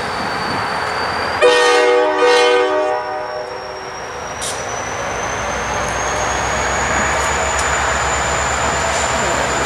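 A freight train horn sounds twice in long blasts, followed by a steady rumble of rail cars rolling past with a faint high whine, on the NYS&W Utica branch in New York.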